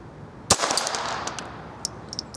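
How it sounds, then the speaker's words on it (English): A single sharp handgun shot cracks out loud and close at a shooting range, its report decaying quickly into a brief echo, followed by faint scattered clicks and rattles. "So I'm going to shoot the one on the far right there."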